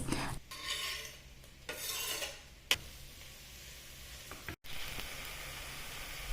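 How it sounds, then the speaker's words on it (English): Methi leaves being stirred into warm rice in a pan, giving a steady soft scraping and rasping with a faint sizzle underneath, in several bursts broken by brief pauses, close and alone with no talk. "Now I add in the methi leaves"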